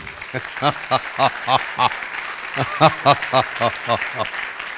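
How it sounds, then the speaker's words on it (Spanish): Audience in a lecture setting claps in a rhythmic, patterned way, about a dozen evenly spaced bursts of clapping over moderate room noise, with voices faintly underneath. "Aplaudimos para recibir la palabra."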